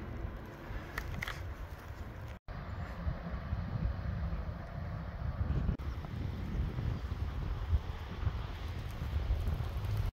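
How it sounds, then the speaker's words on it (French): Strong gusting wind at Lac Claret, a mountain lake in the Belledonne range, roaring steadily against the microphone as low buffeting rumble throughout, with one brief dropout partway through. "Et là, il y a un vent, mais ça souffle."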